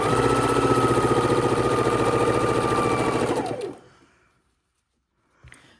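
Sewing machine chain-stitching rows of half-square-triangle quilt pieces, a rapid steady mechanical whirr running continuously for several seconds, then stopping abruptly, followed by silence and a faint brief rustle.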